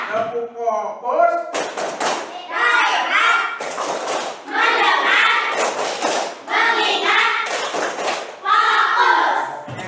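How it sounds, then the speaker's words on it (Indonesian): Fifth-grade pupils perform a group clapping routine, bursts of sharp claps and thumps interleaved with children chanting in rhythm, loud and close throughout. "Tepuk fokus."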